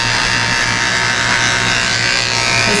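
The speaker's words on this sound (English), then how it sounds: "Shaving out the pads of his feet with a 30 blade." Electric clippers fitted with a 30 blade shave the paw pads of a Cocker Spaniel, giving a steady, close, loud motor buzz that runs unbroken throughout with no talking.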